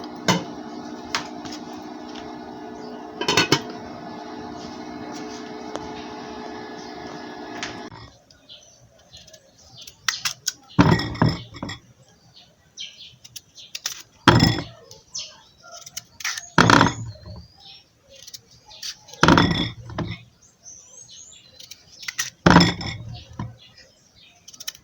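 Irish potatoes go into a pot of cooking French beans: after a steady background hum, a series of separate, close knocks and clinks against the pot follow at irregular intervals.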